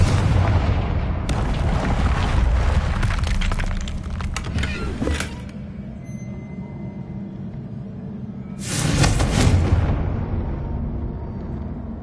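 Confringo fire spell explosions in Hogwarts Legacy: a heavy, booming blast with crackling breakup, a quieter rumbling lull, then a second loud explosion around the middle, all close and loud with no talking.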